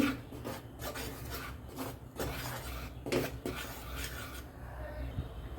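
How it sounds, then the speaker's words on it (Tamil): A utensil scraping and stirring ragi flour as it dry-roasts in a pan, a soft rhythmic rasping of repeated strokes, fairly quiet, with no speech. "சும்மா கொஞ்ச நேரம் அப்படியே வறுத்துங்க, ஒரு 2 நிமிஷத்துக்கு."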